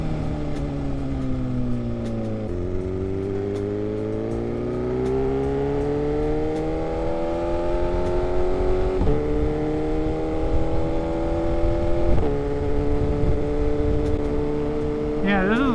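Motorcycle engine carrying a rider and passenger, a steady droning hum with gear changes that drop and climb in pitch, loud and continuous throughout, with wind rush over the top and talk mixed in.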